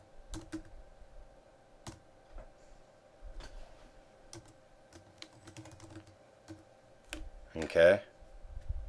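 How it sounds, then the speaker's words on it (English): Intermittent typing on a computer keyboard while filling in Excel spreadsheet entries, a loose run of close key clicks with pauses between them and one denser burst near the end. "I just keep typing"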